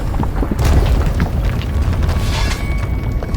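A huge explosion in the video game Avowed rolls out as a deep, sustained rumbling boom that fills the whole stretch at steady loudness.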